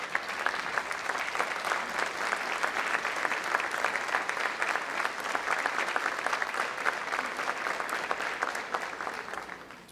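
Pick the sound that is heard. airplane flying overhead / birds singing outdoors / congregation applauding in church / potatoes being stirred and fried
congregation applauding in church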